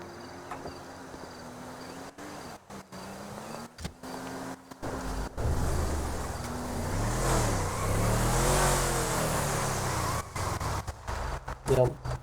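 Car engine in the GTA video game, revving and rising in pitch while the car is being parked, heard close and loud in the second half. People talk over it.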